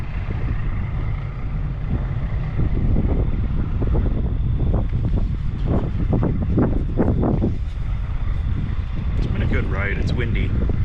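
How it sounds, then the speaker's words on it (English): Strong wind roars steadily across the microphone on a windy motorcycle ride, a loud, constant rumble that buries most other sound throughout, with faint voice-like traces near the end. "It's windy, which makes it really noisy."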